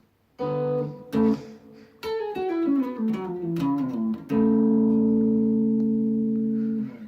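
An electric guitar solo played in paired sixths, a descending run of two-note phrases that ends on a long, sustained ringing chord.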